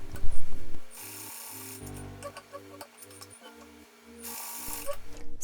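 Sewing machine top stitching one or two rows around a cargo pocket flap: bursts of rapid mechanical whirring and clatter, starting and stopping in short runs, close and moderately loud with no talk.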